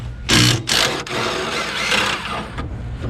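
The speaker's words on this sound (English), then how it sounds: "it has 2 9/16 bolts on there. So I'm just gonna remove those and see what happens" Two 9/16 bolts come out of an EZGO 1200 Workhorse utility golf cart under a power tool, with a couple of short loud buzzing bursts and then softer mechanical rattling close by.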